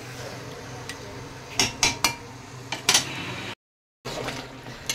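A spoon stirs chicken and spices in a cooking pot, giving a few sharp metallic clanks and scrapes over a low, steady background hum.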